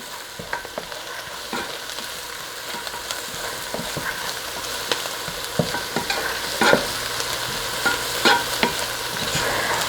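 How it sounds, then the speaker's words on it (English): Butter melting over low heat in a pan with parsley, stirred continuously: a steady soft sizzle with frequent scraping and clicking of the spoon against the pan, no voices. "I'm going to really pay attention and stir this butter until it's melted all the way"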